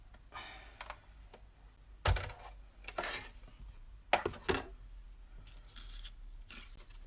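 Scissors or a cutting tool working through a crafting piece, with a few distinct snips and rustling handling noises spaced out over several seconds, fairly close but quiet, with no talking.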